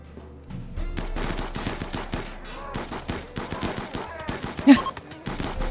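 Rapid bursts of RimWorld gunfire in a colony firefight, shots crackling in irregular volleys with one sharper crack near the end, alongside faint other game sounds.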